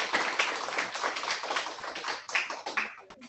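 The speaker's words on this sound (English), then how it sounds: "Students, please give your teachers a round of applause." A crowd of students applauds their teachers at a fifth grade promotion ceremony at Sheiko Elementary, a dense, steady clapping that tapers into scattered claps at the end.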